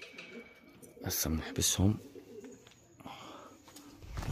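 Pigeons coo in a loft with a couple of soft throaty calls up close, while someone speaks over them.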